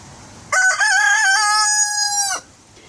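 One rooster crows nearby, loud and alone, a wavering opening that stretches into a long, steady, drawn-out call of nearly two seconds before ending sharply into quiet.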